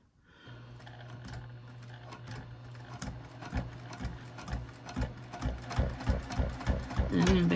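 A sewing machine back stitches at the start of a seam on a mini coin and card zipper pouch, starting with a low hum and building into a quick, steady run of rhythmic needle clatter.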